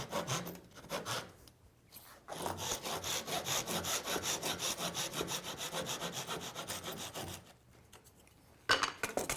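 Hand saw cutting off the protruding wooden runners of a crosscut sled, a quick rhythmic rasping back-and-forth stroke pattern after a few short starting strokes, close and fairly quiet, with a brief pause then resumed strokes at the end.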